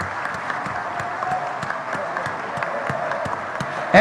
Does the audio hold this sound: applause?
yes